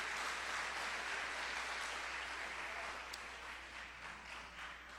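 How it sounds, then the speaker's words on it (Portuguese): A church congregation applauds during a Portuguese-language service, a broad, even wash of clapping that carries on steadily and tapers slightly toward the end, with no voices on top. "dê um aplauso a Jesus"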